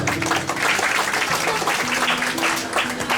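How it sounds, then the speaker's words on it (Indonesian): A church congregation at a GKI anniversary gathering breaks into dense, sustained applause, many hands clapping together steadily throughout, with a low musical drone beneath. "Kita beri tepuk tangan untuk Tuhan."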